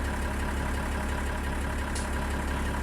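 Tractor engine idling in Farming Simulator 19 with the Alpine Expansion, heard from outside the cab: a steady, loud low diesel rumble that runs unbroken throughout.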